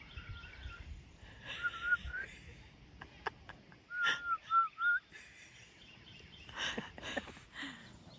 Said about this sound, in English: You got to whistle.